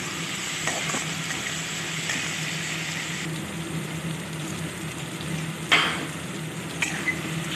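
Ginger, garlic and bay leaves frying in a pan for an Assamese ilish fish dish, giving a steady close sizzle with light stirring scrapes and a couple of louder spatters near the end.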